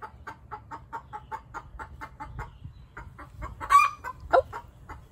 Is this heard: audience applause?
no